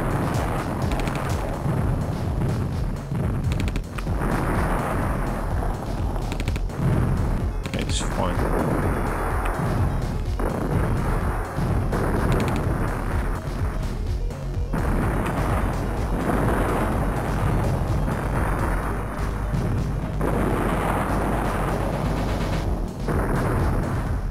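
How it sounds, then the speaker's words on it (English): A massive artillery barrage in the World War II strategy game Counter Action: continuous heavy booms and rumbling explosions layered densely over one another, loud and unbroken for the whole stretch. "Who's building a massive barrage and there's no one there?"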